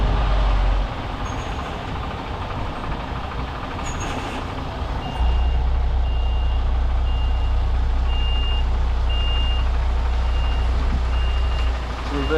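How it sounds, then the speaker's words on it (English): An HGV truck reversing, its reversing beeper sounding in a steady repeating pattern over the deep rumble of the idling diesel engine, heard from inside the cab. "Reversing on now, we're just aiming for that yellow line."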